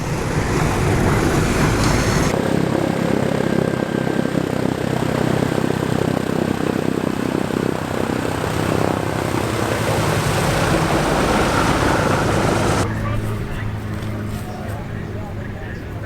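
A push-pull twin-propeller aircraft engine drones loudly and steadily up close at an airshow, then cuts off abruptly, leaving quieter background noise.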